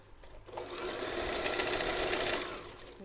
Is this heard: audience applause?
no